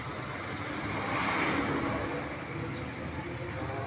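Steady road traffic noise from passing cars, buses and trucks on a congested route toward San Fernando, Pampanga, a continuous broadband rumble with no talk.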